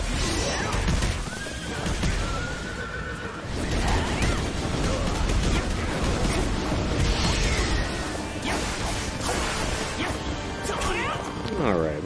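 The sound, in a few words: horses neighing in a video game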